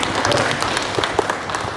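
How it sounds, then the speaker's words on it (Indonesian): Audience applause at a PWI Pelalawan journalists' association installation ceremony, a dense wash of many hands clapping steadily and fairly close throughout the short stretch. "Tepuk tangan buat PWI."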